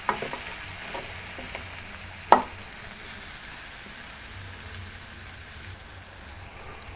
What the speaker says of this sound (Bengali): এখন সবজিটার জন্য আমি আগে আলু আর গাজরটা দিয়ে দিব। আমি এগুলো আগে একটু ভেজে নেব।